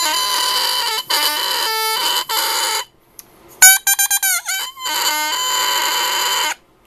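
An oboe reed crows with bright, buzzy squawks after scraping, in a few loud bursts of several seconds each, broken by short silences and a quick run of choppy pitch-bending chirps at close range.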